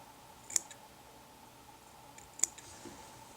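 Scissors trim EP fibre on a crab fly with two sharp, close snips about two seconds apart in a quiet room, each a crisp isolated click.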